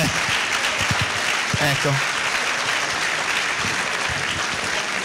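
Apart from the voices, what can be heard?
audience applause for scouts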